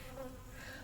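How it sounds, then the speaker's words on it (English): Bees buzzing steadily around a Flow Hive honey jar during a honey harvest, a close continuous insect drone with no talking. "the bees are flying into the honey jar"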